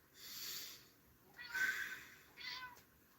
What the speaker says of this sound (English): That's my cat meowing, in case you can hear.